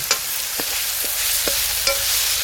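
Curry ingredients for a Gujarati amaranth-leaf kadhi are mixed in a pot over a constant frying hiss, with a few sharp spoon taps and scrapes at irregular intervals and no voices.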